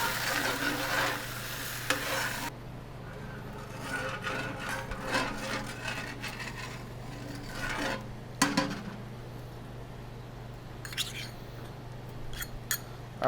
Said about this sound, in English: I'm gonna go ahead and get this mixed up, and we're gonna reduce this until it's nice and thick